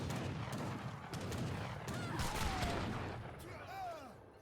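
Skirmisher musket fire crackles continuously through a busy Age of Empires 3 battle, a dense rattle of overlapping shots with faint honking calls rising over the din.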